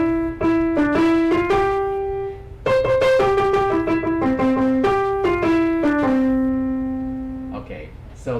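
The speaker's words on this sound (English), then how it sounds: "row, row, row your boat sounds like this." A pure, tuner-like tone plays the melody of Row, Row, Row Your Boat note by note at a steady tempo, loud and clear, with no voice over it.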